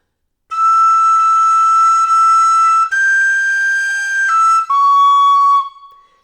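A tin whistle plays a slow carol phrase of Silent Night, three sustained clear notes stepping from one pitch to a higher one and back down, close and loud with no talking.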